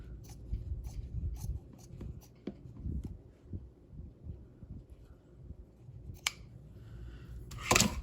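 Scissors trim a paper cover for a rose journal, a faint, quiet sequence of small snips and paper rustles with several sharp clicks, the loudest near the end.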